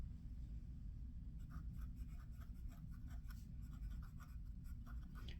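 A steel-nib Pelikan P20 fountain pen scratches faintly across paper in short, repeated strokes, a soft rhythmic rasp close up against a quiet room.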